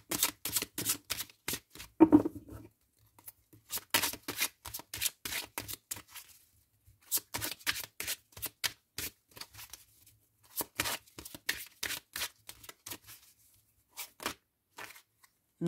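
Tarot cards being shuffled and drawn by hand, with rapid riffling bursts in repeated rounds that are broken by short pauses, sounding close and crisp with no voices over them.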